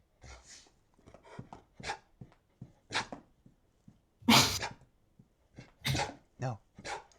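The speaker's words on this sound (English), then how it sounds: "I hear a dog." A dog making short snorts or sneezes and yips in bursts, close by and fairly loud, under and between people talking.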